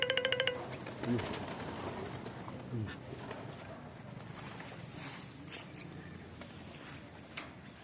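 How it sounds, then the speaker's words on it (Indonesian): Zebra doves (perkutut) mixed with other doves in a crowded breeding aviary give soft cooing calls near the start, then fade under a steady hiss of outdoor background noise. "Perkutut ini kecil-kecil banyak bener."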